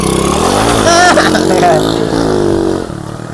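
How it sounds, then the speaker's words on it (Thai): A 110cc carburetor motorcycle engine revs up loudly close by, its pitch rising and falling before settling back toward idle. "เครื่องยนต์นะครับอันนี้ร้อยสิบตัวคาบูนะครับ"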